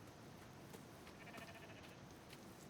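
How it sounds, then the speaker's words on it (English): Sheep in the game Rising World bleating faintly in the distance, a soft wavering call over a steady murmur of ambient game noise. "Yeah, these sheep are alright."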